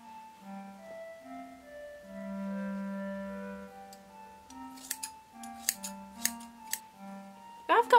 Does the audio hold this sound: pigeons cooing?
no